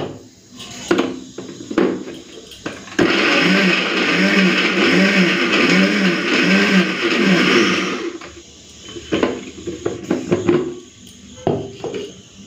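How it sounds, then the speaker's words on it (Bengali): An electric kitchen grinder blends a spice paste of chili, cumin and coriander powder, a loud steady whirring roar lasting about five seconds, framed by clattering and knocking of the jar before and after. "সব মশলাপাতি একবারে দিয়ে বেটে নিয়েছি।"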